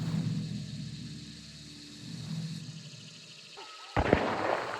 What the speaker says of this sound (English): Suddenly, a gunshot could be heard from the direction of the farm.